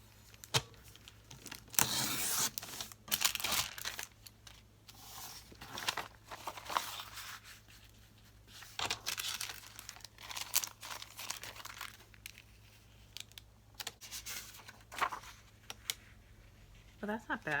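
Craft material for a steampunk project being cut and handled, with crinkling, tearing and scraping sounds in irregular bursts, fairly close, over a low steady hum.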